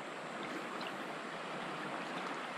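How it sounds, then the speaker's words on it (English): Soft, even hiss of the Fisher River in Montana flowing past, a steady faint wash of moving water with no voices. "This here is the Fisher River."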